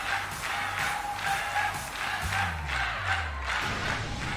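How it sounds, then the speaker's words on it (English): A game crowd in Pokemon Scarlet & Violet cheers and shouts in a steady, loud roar, with rhythmic chanting pulses and a low electronic musical line running underneath. "The crowd's so loud, it could wake the dead."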